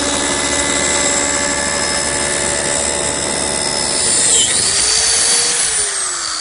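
Biscuit joiner cutting a slot into a plywood brace in a woodworking shop, a loud steady high-pitched motor whine with a short dip and shift in pitch as the blade plunges and withdraws.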